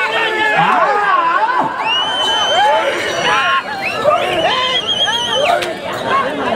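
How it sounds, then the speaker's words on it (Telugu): A crowd at a bull race cheers and shouts in victory, with many voices layered into a loud, continuous din of whoops and calls close at hand. "విజయోత్సవ కేకలు."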